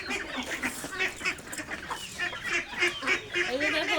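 Ducks and ducklings call in a farmyard during morning feeding, with a busy stream of overlapping quacks and high peeping chirps close by and no talk.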